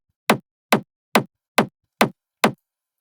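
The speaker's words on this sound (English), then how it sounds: "which is like a mid techno kick and sounds like this." Mid techno kick drum sample struck six times at a steady, even pulse, each hit short and punchy with a sharp attack and quick decay, heard alone with no other sounds.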